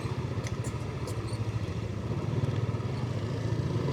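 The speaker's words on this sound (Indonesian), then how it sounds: "Berpapasan dengan motor ya gini." A motorcycle engine putters close by on a narrow one-lane village road near Punclut, a steady rhythmic motor drone that grows slightly louder toward the end.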